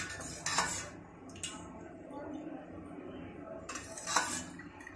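Metal utensils clinking and scraping against pots and plates while serving rice, dal and okra-potato curry at home, a few sharp close clinks between softer scraping, with quiet background room noise.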